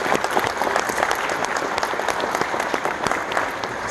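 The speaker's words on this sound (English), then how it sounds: "Let's give them applause." Steady applause from an audience filling an awards ceremony for school wind ensembles, dense and sustained for the whole stretch with no voice over it.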